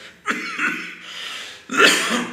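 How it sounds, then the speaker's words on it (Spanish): Two harsh, raspy coughs close to the microphone, separated by a short pause, with a rough throaty texture. "perdón, tengo bastante tos"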